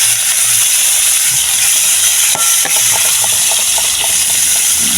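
Steady loud hiss of saltfish frying in hot oil, with a few faint pops and crackles scattered through.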